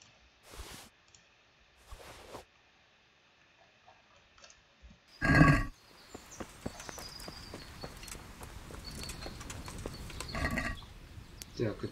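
A horse in Kingdom Come: Deliverance gives one short, loud whinny midway, set among quiet clicks, hoof clops and brief bursts of talk.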